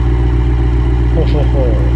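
A 90-degree V engine in the Automation game idles near 900 rpm with a steady, low, even rumble that holds throughout, while a voice briefly talks over it.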